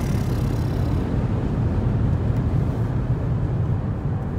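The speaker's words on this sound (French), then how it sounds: "La voiture, elle a une reprise." A new BMW M5 accelerating, a loud, steady broadband roar of engine and road noise sustained throughout with no talk.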